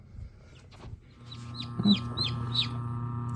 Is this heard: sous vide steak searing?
no